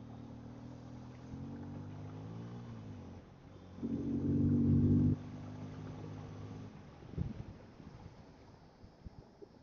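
A Bajaj Pulsar N250 motorcycle engine idles steadily during a vibration test, then revs louder for about a second before settling back, with some rustling and handling noise near the end.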